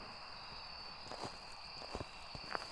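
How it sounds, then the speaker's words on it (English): Obake ghost footsteps in the horror video game Phasmophobia: a handful of soft, irregular thuds at middling distance over a steady electronic hum, faint and spaced out. "Wait, you can still hear the Obake footsteps."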